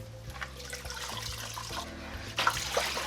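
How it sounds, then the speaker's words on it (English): Water from a pot of boiled lasagna noodles pours steadily down a kitchen sink drain, a continuous close splashing rush that swells a little louder near the end. "We're going to drain the water, and then we're going to shock them with cold water so they stop cooking"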